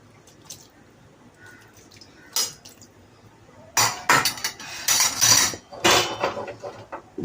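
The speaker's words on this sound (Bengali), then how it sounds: "এবার এটা ঢাকা দিয়ে এবার একটু জল দিয়ে দিই" A lid set on a cooking pot of cauliflower korma and a little water added, metallic clanks and splashy bursts coming close and loud after a quiet stretch.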